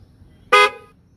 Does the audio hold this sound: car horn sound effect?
yes